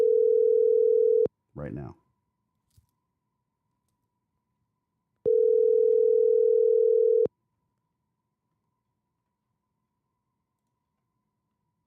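A telephone ringback tone sounds while a call is placed, two long steady tones about two seconds each separated by a few seconds of silence, clear and close, with a brief spoken phrase after the first ring.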